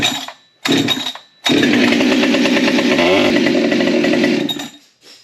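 Prototype Husqvarna 572 big bore chainsaw with modified engine, two short blips and then a loud, sustained high-revving run that drops away at the end.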